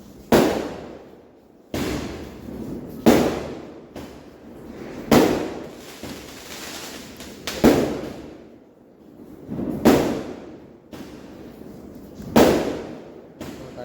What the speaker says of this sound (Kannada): so first water queen test ಮಾಡೋಣ ಬನ್ನಿ